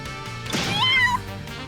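A cat meows in the video game Demon Gaze Extra, one drawn-out, wavering call over soft background music, fairly close and clear.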